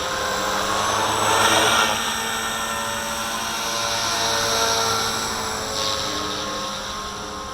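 A V450D01 RC helicopter hovers in high wind, its steady whining rotor and motor drone rising and falling as gusts buffet it, with rushing wind noise throughout.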